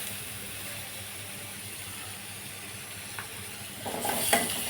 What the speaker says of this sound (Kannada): ಸ್ವಲ್ಪ ಫ್ರೈ ಆಗಬೇಕಿದು